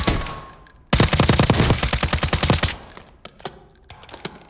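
Rapid automatic fire from an MCX Spear (M7) rifle chambered in 6.8x51 in the video game Warzone: a loud, fast burst of evenly spaced shots lasting nearly two seconds, followed by a few scattered quieter impacts.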